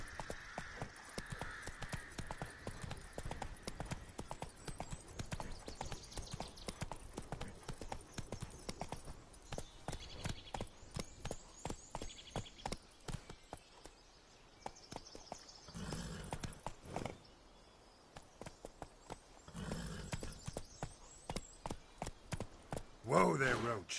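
Hoofbeats of Roach, Geralt's horse in The Witcher 3, clip-clopping steadily and close for the whole stretch, with a few louder bursts and brief game sounds layered over the gallop.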